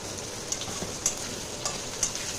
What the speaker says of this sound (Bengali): কুমড়োটাকে আগে ভালো করে ভেজে নিতে হবে